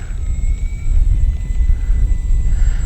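An RC model OV-10 airplane runs up on grass for takeoff, a steady close electric motor and propeller drone over rumbling wind noise, with a faint high whine throughout.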